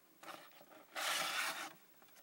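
A Cold Steel GI tanto knife of 1055 carbon steel slices through a sheet of paper, a quiet papery rasp with a short tap followed by one longer clear swish near the microphone.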